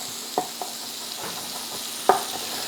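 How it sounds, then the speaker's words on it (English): Chicken frying in a pan for a quick fusilli pasta dinner gives a low, steady sizzle, with a few sharp clicks and scrapes from stirring. It is fairly quiet and nobody speaks. "So while the chicken is cooking"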